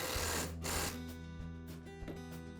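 Self-tapping screw driven into a Milwaukee portable bandsaw gear case with a power driver, a steady motor whine broken by short pauses and bursts, close and fairly quiet.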